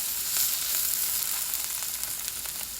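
Shrimp fried rice with onions sizzles steadily in a pan as it is stirred, a continuous close frying hiss with faint scraping accents throughout and no talk.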